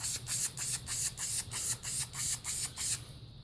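VHT Wrinkle Plus paint hissing from a spray can in about nine rhythmic bursts of roughly a quarter second each, close and fairly loud, ending in quiet.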